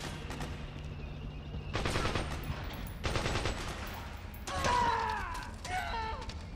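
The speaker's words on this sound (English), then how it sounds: "Yeah, I don't like this gunshot model at all." Game gunfire in Metal Gear Solid 4 comes as a few loud bursts of shots, each lasting about a second, over steady background game sound. Whistling effects and voice-like sounds follow near the end.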